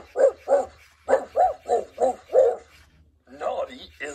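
An animated toy golden retriever gives a run of regular, mechanical barks, six or seven in a row, then pauses before a burst of yapping.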